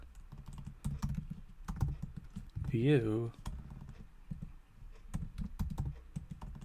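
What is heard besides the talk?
typing on a computer keyboard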